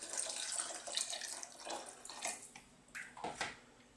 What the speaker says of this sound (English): So let's get some water in there.